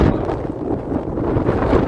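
Strong stormy wind in Mumbai roars and buffets the microphone in a low, continuous rumble, with no voices.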